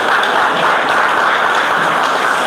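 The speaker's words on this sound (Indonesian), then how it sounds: "Jadi kita bagi tepukan kepada beliau." Loud, dense audience applause at a political party election campaign launch in Moyog, Penampang, a sustained wash of clapping from a large crowd with no break.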